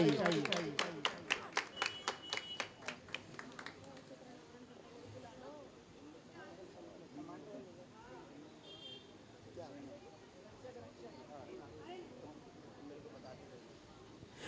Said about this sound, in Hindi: आप लोग की जोरदार तालियां होनी चाहिए